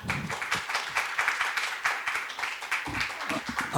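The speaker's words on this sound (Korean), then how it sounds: "큰 박수 부탁드립니다." A seminar audience claps for a speaker at a leadership talk. The clapping is a steady, moderately faint patter of many hands that keeps going for several seconds.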